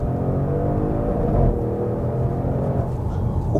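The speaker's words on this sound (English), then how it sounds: "Let's just do a little launch here" An Audi RS6 performs a launch from first gear, its engine rumbling loud and close as revs build quickly into a rising roar with a steady whir beneath, no voices heard.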